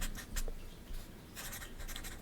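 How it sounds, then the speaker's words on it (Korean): Handwriting with a pen or pencil on paper makes quiet, close scratchy strokes in short bursts, heard alone with no talk. "요즘 제가 하는 공부들로 써볼게요."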